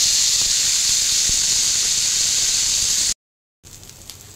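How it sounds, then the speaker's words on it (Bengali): Cauliflower florets frying in hot oil in a wok give a loud, continuous sizzling hiss that runs steadily, cuts out briefly near the end, then resumes more softly. "এবার আমি ফুলকপিগুলো দিয়ে দেবো আর অল্প ভেজে নেব।"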